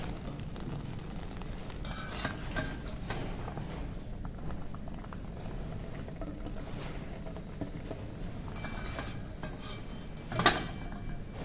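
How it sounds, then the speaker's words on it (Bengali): Boiled potatoes are strained and lifted onto a plate in a home kitchen, with soft clinks and scrapes of utensils against cookware scattered over quiet background hiss and a sharper clatter near the end, no talking. "আলুগুলো নিয়ে ছেঁকে আমি তুলে নিলাম একটা প্লেটের মধ্যে"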